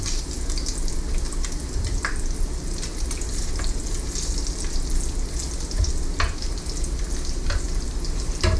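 Great Value hickory smoked bacon fries in a pan with a dense, steady crackling sizzle and scattered sharp pops, close and continuous, no voices.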